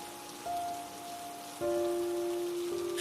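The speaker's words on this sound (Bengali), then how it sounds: "সকাল থেকে টিপটিপ বৃষ্টি পড়েই চলেছে।" Light drizzling rain patters softly and steadily on surfaces, alone and without speech, with faint sustained tones in the background.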